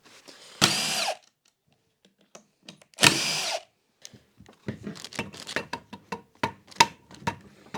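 A power tool unbolts the shift drum from a Honda ATC 250R engine during teardown, giving two loud, separate bursts of roughly half a second each, followed by scattered clinks and handling noises of loose engine parts.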